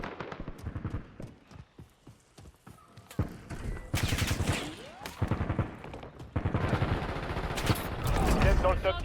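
Gunfire in the battle royale video game Warzone, with scattered single shots and rapid bursts at mixed distances, some loud and close, mixed with other game sounds and some voice activity.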